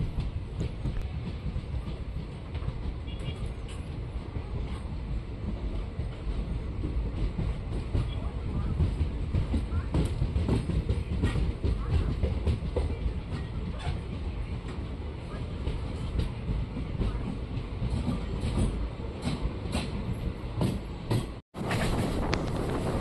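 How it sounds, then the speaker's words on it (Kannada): An Indian Railways Sharavati Express pulls out of Chikkajajur station after a halt and runs on the rails, with a loud, continuous rumble and rattle throughout and a brief dropout near the end. "ಸುಮಾರು 5 ನಿಮಿಷ ಹಾಲ್ಟ್ ನಂತರ ನಮ್ಮ ಟ್ರೈನು ಚಿಕ್ಕಜಾಜೂರಿಂದ ಹೊರಟಿದೆ."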